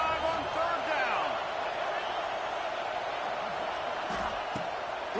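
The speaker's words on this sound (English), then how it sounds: "The Buckeye crowd alive on 3rd down." Buckeye stadium crowd in College Football 26 roars in a dense, steady wash of cheering on third down, loud and continuous with faint thuds mixed in.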